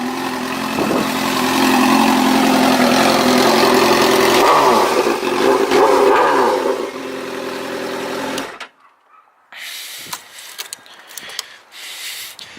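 A loud Suzuki GSX-R sport motorcycle engine runs and revs up close, its throaty drone rising and falling, then cuts out, leaving scattered clicks and rattles.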